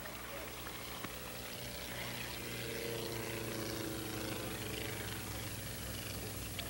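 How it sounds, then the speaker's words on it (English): Propeller airplanes at an air race lining up to land, a continuous droning engine hum at moderate distance that holds steady throughout. "the other airplanes line up to land one by one"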